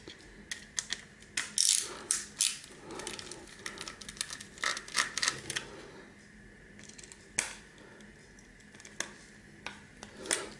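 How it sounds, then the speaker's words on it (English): Screws being taken out of a vintage game console circuit board with a screwdriver, a quiet close run of small irregular clicks, ticks and scrapes, with no talking. "I'll see if I can remove the screws, and that might give us a better look at them."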